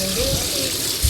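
Water pouring and splashing onto plants during watering, a loud, close continuous gush lasting only a moment.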